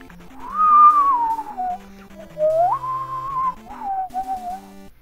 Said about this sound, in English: I did a bad job of whistling